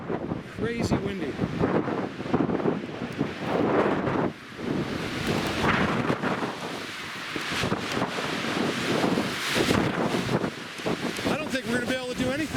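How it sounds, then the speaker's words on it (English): Strong, gusty wind roaring across a mountainside at a quartz mine, buffeting the microphone with heavy rumbling bursts throughout while people talk under it. "it is crazy windy"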